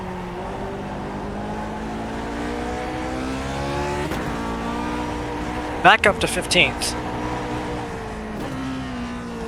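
A vintage Grand Prix Legends race car engine revs and drones at Indy in the iRacing sim. Its pitch rises and falls through gear changes, with a few sharp transient bursts, while someone talks over it.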